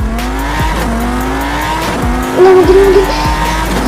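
Race cars in the Sakura School Simulator game drone loudly with sweeping engine pitches and a short tire squeal, and a voice speaks briefly.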